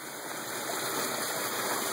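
Water from a spillway rushes through a 30-inch pipe at a low-head hydro setup, a steady, loud broadband gush with a faint constant tonal whine above it.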